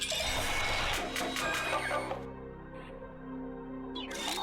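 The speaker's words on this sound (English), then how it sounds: "Fresh out of the printer" A printer in the video game Inscryption runs out a card with a dense mechanical whirring and rattling, then cuts to a faint hum before a brief clatter at the end.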